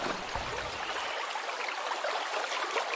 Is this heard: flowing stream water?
yes